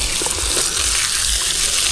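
Water pours steadily by hand onto young dwarf fruit trees, among them a two-month-old dwarf coconut, making a continuous close gushing and splashing wash with no pauses.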